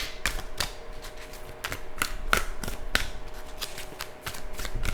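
A deck of cards is riffled and shuffled in quick crisp bursts of flicking and snapping, close up and fairly quiet, with no talking.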